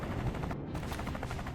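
Rapid gunfire in the turn-based tactical game Tactical Breach Wizards, a dense rattling burst of shots in quick succession that runs the whole stretch, loud and continuous with a brief high dropout partway through.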